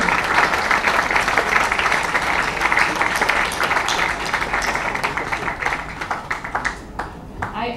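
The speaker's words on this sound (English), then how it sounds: "Let's give a big round of applause to our young novelist Zuni." Audience at a book launch applauds a young novelist, close and lively clapping with sharp individual claps standing out, fading to scattered claps near the end.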